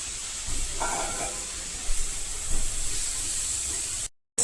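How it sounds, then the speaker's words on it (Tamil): Prawns dropped into a hot pan for an era fry give off a steady, broad sizzling hiss that keeps going at an even level with a few small swells, then cuts off briefly near the end. "இப்போ இதில் நான் எறா போட்டுறேன்"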